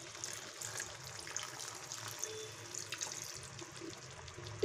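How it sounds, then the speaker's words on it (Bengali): Water pours into a pot of milk chicken curry as a soft, continuous trickle that stays faint and steady, without voices. "এবারে আমি এর মধ্যে অল্প পরিমাণ একটু জল দেব"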